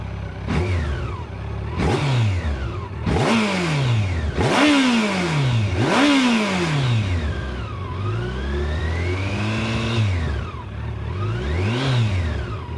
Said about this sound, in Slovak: táto motorka má tie dva výfuky a tie sa postarajú o to, že to nie je teda žiadna nuda